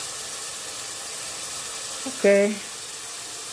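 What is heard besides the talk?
vegetables frying in a pan for ragù bolognese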